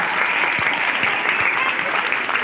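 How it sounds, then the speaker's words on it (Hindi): An audience at a school annual day function claps steadily and loudly for a children's dance performance, a dense continuous wash of applause throughout. "उन बच्चों के लिए तालियां बजाओ जोरदार"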